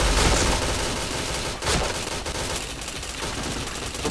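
Dense, continuous gunfire from a shooter video game, rapid overlapping shots with a sharp burst near the middle, loud and close throughout with no talk.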